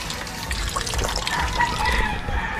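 A worn, wobbly Jetmatic hand pump draws water, which splashes and gushes unevenly with drips and trickles, close by, for a few seconds without clear talk.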